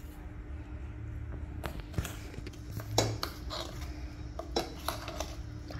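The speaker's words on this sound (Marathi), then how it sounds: "आता आपण आपला हायलाइट म्हणजे वाटलेला मसाला याच्यात घालूया." Ground masala goes into a pot of sambhar with faint metallic clinks and scrapes of a spoon against the vessel, a few louder knocks standing out against a quiet background.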